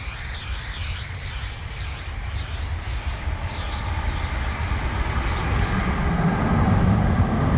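A train rumbles past throughout, a steady low roar that swells louder toward the end, with faint hissing and rattling on top. The setting is a graffiti painting session with spray cans.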